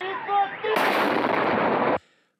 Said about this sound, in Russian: Военные устроили патриотическую стрельбу из артиллерии возле ТРЦ в Новосибирске.